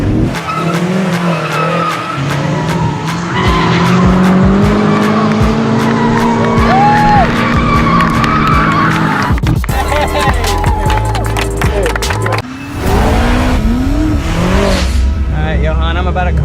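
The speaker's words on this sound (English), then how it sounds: "We want to set this drift record" A BMW M5 drifting in a long, sustained slide for a distance record, its tires squealing steadily with a loud engine roar, the squeal wavering in pitch over the clip and breaking off near the end.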